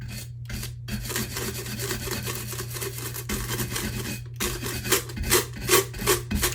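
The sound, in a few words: scrub brush scrubbing a tumbler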